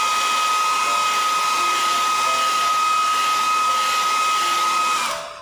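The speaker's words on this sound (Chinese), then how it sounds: "then blow dry, then only continue the second one" A hair dryer blows steadily at close range to dry glue on a decoupage notebook, a loud continuous whooshing hum that winds down at the end.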